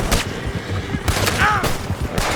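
Gunfire in Red Dead Redemption 2 during a tense standoff, with several sharp shots spread across the moment over a busy background of voices and game ambience.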